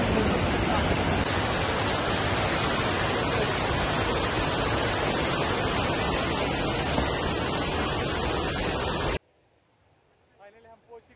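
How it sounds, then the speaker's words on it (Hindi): Vetalpatti waterfall in dense Maharashtra forest gives a loud, constant roar of rushing water that suddenly drops away, leaving faint background with a few soft sounds at the end. "फाइनली हम पहुंच गए हैं वाटरफॉल के यहाँ"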